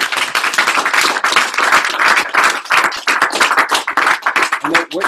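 Applause rises from a meeting audience, dense clapping that runs steadily throughout at close range with scattered voices mixed in.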